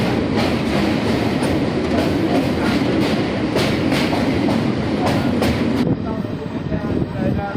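The Ballia–Sealdah Express rolls into Kiul Junction, heard from on board as a loud continuous rumble of wheels with rhythmic clickety-clack over rail joints, easing slightly near the end.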